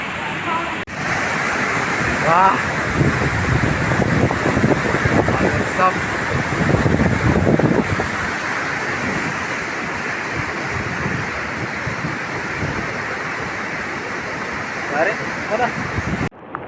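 A waterfall's rushing water roars steadily in the rain, with wind buffeting the microphone; a person speaks over the noise now and then.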